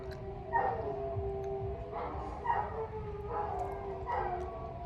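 Neighborhood dogs howl together in a drawn-out, rising and falling chorus at a moderate distance, several long wavering howls overlapping over steady background noise.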